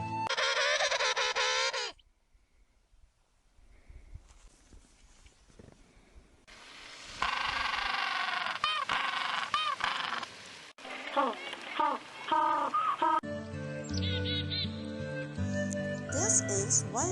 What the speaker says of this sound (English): Let's listen the sound of penguins.